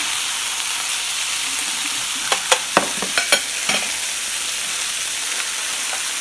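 Capers fry in olive oil in a pan, a steady close sizzle broken by a quick cluster of sharp scraping stirs midway, with no talk.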